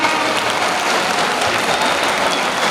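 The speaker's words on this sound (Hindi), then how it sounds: "जबरदस्त तालियों के साथ स्वागत करें इनका।" A crowd at a 2022 school annual function gives a guest a welcoming round of applause, dense, loud and continuous clapping that fills the whole stretch without a break.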